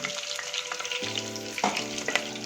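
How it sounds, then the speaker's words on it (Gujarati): Chopped ginger and green chillies sauté in a pan with a loud, crackling sizzle, and scraping stirs break in near the middle and again toward the end. No one speaks. "કટિંગ કરેલા આદુ મરચાં આપણે એડ કરીશું થોડા સંતળાય પછી"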